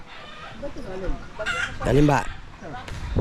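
Chickens cluck and squawk close by, with a loud burst of agitated calls in the middle, while a person says a few words.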